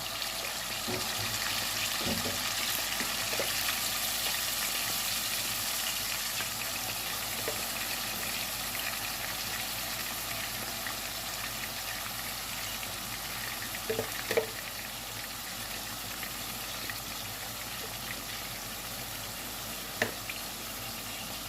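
Chicken livers sear in a hot pan with a steady, broad hiss of sizzling fat, fairly even throughout, with a few small pops and spits standing out now and then.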